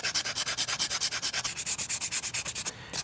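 Sandpaper, 220 grit, rubs across a 3D-printed sword in quick, even back-and-forth strokes, about eight per second, close and crisp, then stops abruptly near the end.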